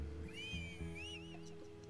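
A whistle used to call a horse in the video game Ylands, a few short rising and falling whistled notes heard quietly over a low background drone.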